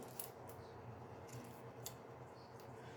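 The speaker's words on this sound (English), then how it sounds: "Give it a nice cut from down there." Scissors snip spring onion stems at harvest, giving a few quiet, crisp cuts spread over a few seconds against a low background hiss.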